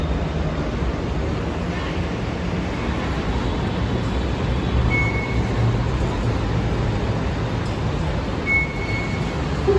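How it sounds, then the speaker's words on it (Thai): Steady rumble of a Bangkok BTS Skytrain ride heading back toward Bang Wa station, a continuous loud rolling noise with faint high tones now and then and no talk. "จะนั่งรถไฟกลับไปที่สถานีบางว่าเหมือนเดิม"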